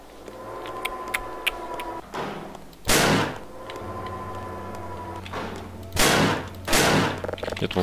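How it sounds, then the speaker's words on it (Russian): Several sharp, loud pistol gunshot bursts in Half-Life 2 ring out at irregular intervals over a steady electronic game background hum. "Теперь так пистолет стреляет?"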